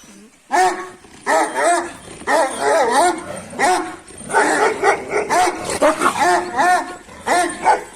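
Two dogs in a dominance fight over a female snarl, growl and bark in rapid, close, loud bursts, with yelps and whimpers mixed in and a person talking amid the noise.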